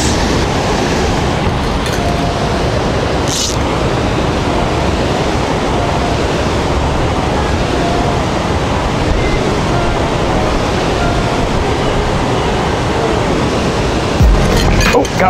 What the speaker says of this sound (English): You probably hear it's getting pretty loud over here because there's a substantial waterfall just to my right over here